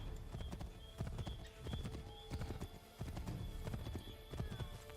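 Horse hooves clip-clop in Assassin's Creed III, a brisk steady rhythm of hoofbeats close by, with an occasional whinny in the background.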